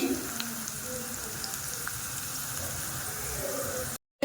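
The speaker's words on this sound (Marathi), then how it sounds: "आपली मिरची पण छानपैकी कडकडीत फ्राय झालेली आहे" Green chillies crackling in hot oil in a small tempering pan, a steady close sizzle and spatter running unbroken before a brief silence near the end.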